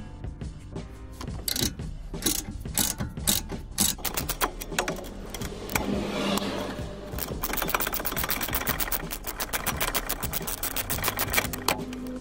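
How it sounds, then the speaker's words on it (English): Ratchet wrench loosening the rear brake caliper carrier bolts on an Alfa Romeo Giulietta, a busy run of close, sharp mechanical clicks and taps at a brisk, uneven rhythm that carries on throughout. "get the ratchet on that, and then we'll loosen these off and just remove this bracket"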